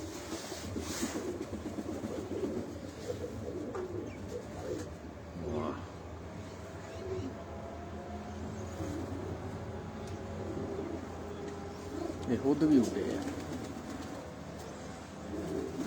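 Paired breeder pigeons coo softly on a rooftop amid outdoor background noise, with a brief louder burst near the end and a person speaking briefly.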